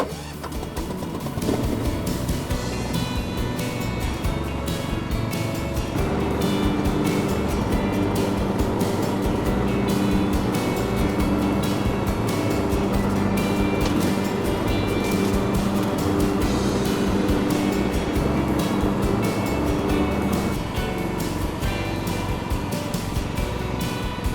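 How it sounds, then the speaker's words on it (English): Cobra ride-on lawn tractor running steadily while mowing grass in side discharge mode, a loud continuous engine drone with blade whir that holds near and constant throughout, with no talk over it. "I'm just going to show you it mowing in the side discharge mode."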